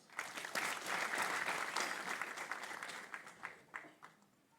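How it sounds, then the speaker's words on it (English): Graduates clap for themselves at a Macmillan Technical College graduation ceremony in Kasarani, a dense burst of applause that swells quickly, holds, then thins into scattered claps before fading. "So please clap for yourselves."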